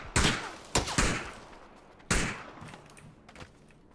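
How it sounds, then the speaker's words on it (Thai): Gunfire in the video game PUBG, a few sharp, loud shots in an uneven rhythm, each one trailing off in a short echo, with no talking over them. "เมื่อกี้เสียงปืนมันใกล้กว่านี้ไม่ใช่หรอพี่"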